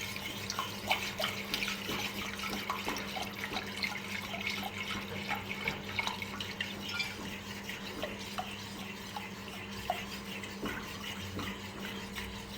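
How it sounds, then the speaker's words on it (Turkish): Lukewarm water poured into red lentil ezogelin soup while it is stirred, producing a continuous close trickling and sloshing with soft spoon scrapes and a steady hum underneath. "Suyu eklerken yine karıştırın."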